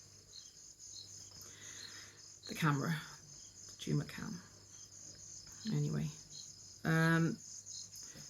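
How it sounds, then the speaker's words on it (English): A steady high chirring of crickets continues throughout, underneath a man's intermittent speech. "If you hear it in the background, the crickets and whatnot,"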